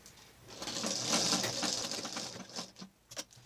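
Sewing machine stitching the corner of a square neckline in a fabric garment, a steady mechanical whir running for a couple of seconds, then short separate bursts as it stops and restarts.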